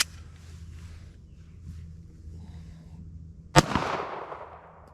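A single sharp gunshot from an LCP .380 pistol firing Hornady 90 grain XTP factory rounds cracks out loud and close, with a brief decaying echo and low background rumble before it.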